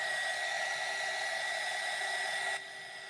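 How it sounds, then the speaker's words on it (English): Heat gun blowing over glass and resin art, a steady close airy roar with a faint whine that drops to a lower level near the end, no one speaking. "I'm going to hit this real quick with the heat gun"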